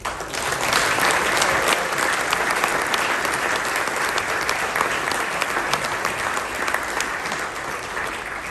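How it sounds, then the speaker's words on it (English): Audience applause for an incoming association president at a formal award ceremony, steady and dense clapping from a sizable crowd filling the whole stretch without pause. "Please give him a round of applause, and give him all the support that you can."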